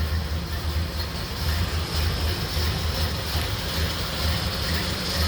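A 1931 Ford Model A 5-window coupe with an L-head four-cylinder engine runs at a steady idle, a continuous low rhythmic hum with a faint hiss and no talk.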